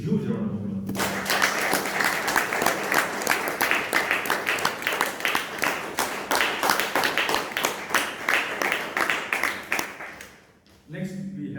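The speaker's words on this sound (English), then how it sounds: "he really deserves a huge round of applause" Audience applause at a Toastmasters club meeting in Bangalore, a sustained round of dense clapping lasting about nine seconds, loud and steady, fading out before a voice resumes.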